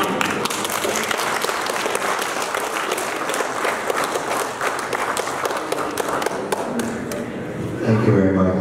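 Audience applause at the Union Station unveiling ceremony, a steady dense patter of many hands clapping throughout, fairly loud and close, tapering near the end as a voice begins.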